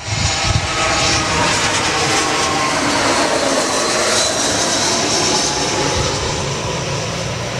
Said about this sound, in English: Jetstar all the way from Sydney, only an hour flight, so not too long.